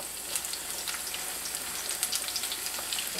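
Steady crackling sizzle of potato latkes frying in hot oil in a pan, with dense popping and spitting throughout, close up and fairly loud, no voices.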